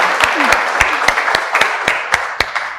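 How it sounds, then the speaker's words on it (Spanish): An audience at a lecture on teaching reading and writing applauds, a loud, close burst of crowd clapping with several sharp, distinct claps standing out in an uneven rhythm. "Así que otro aplauso para ustedes."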